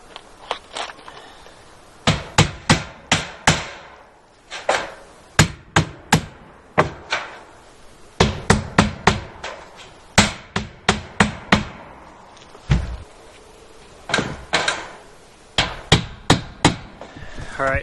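Hammer tacking metal exterior siding on a post frame home: sharp, loud metallic blows struck in quick clusters of three to five, with short pauses between groups, close by and with no talk.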